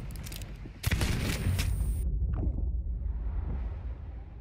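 A gunshot in the pirate video game Sea of Thieves cracks out amid a burst of sharp, noisy blasts, then fades into a low rumbling tail with broad ambient noise.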